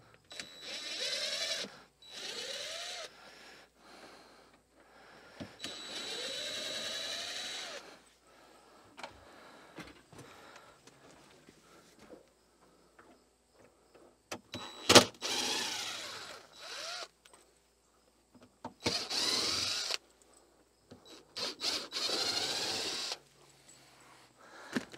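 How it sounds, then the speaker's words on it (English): A Phillips screw extractor works a stuck screw on a 1973 Cobalt boat, giving short bursts of whirring, high-pitched tool noise that stop and start between quiet pauses. "I got my old Phillips screw extractor 5000 here."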